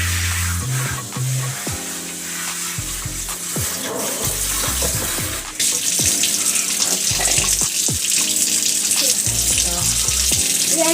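Water runs loud and steady from a tap while a child's curly hair gets washed, a continuous rushing stream close by, with faint muffled voices and brief knocks beneath it.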